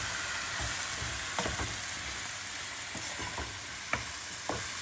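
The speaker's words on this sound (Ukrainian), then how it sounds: "Олію я вже не додаю, смажу ось так." Steady frying hiss of mushrooms in a dry pan without oil, with occasional scraping stirs and light taps against it; no voices.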